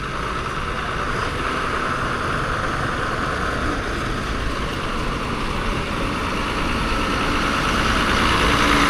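A Devrukh-bound bus sits idling at Sangameshwar bus station, its engine giving a steady, loud, low rumble that holds evenly throughout with no talking over it.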